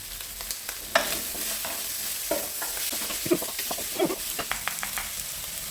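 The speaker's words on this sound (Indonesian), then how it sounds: "Ini digoreng aja terus." Tauco with tomato and kecombrang fries in a pan, a steady close sizzle broken by repeated scraping stirs.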